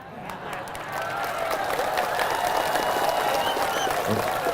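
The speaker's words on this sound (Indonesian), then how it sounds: "Banyak yang tepuk tangan, tak jadilah." Audience applause breaking out during an Indonesian religious sermon, a dense steady clapping from a large crowd that swells after the first second and holds, with faint voices mixed in.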